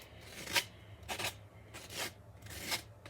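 A tool scrapes most of the frosting off a Dollar Tree cake to make a fake naked cake, giving four soft rasping strokes spaced about half a second apart, close and quiet.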